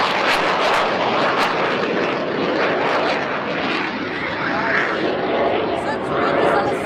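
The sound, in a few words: helicopters flying at an air show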